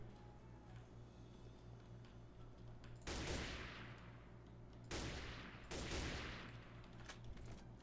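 Three sharp bursts of gunfire ring out at intervals, each trailing off, over a steady low electronic hum; fairly faint and distant-sounding, like game audio.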